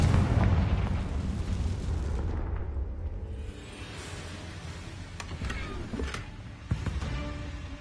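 A Confringo blasting spell goes off in Hogwarts Legacy with a loud burst and a rumbling boom that fades into scattered crackles and debris clatter, with smaller pops following.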